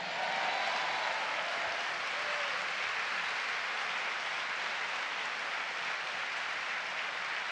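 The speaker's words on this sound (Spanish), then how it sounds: "¿Cuánto le dan un aplauso al Señor?" A church congregation applauds in a steady, even wash of clapping, fairly quiet and distant, continuing for several seconds without talk.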